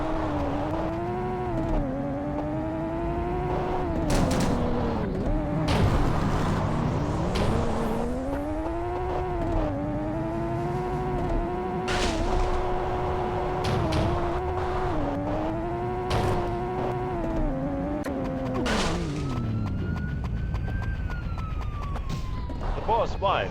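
A car races along in a video game, its engine whining and shifting pitch up and down while a police-style siren wails over it, with occasional skids and impacts; the engine tone runs continuously throughout.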